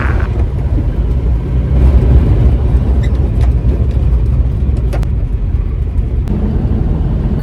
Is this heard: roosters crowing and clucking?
no